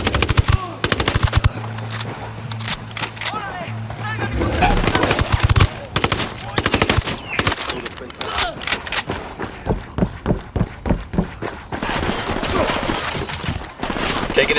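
Automatic gunfire in the video game Ghost Recon Wildlands: loud, rapid bursts crackle close by in repeated volleys, with a voice speaking briefly between them.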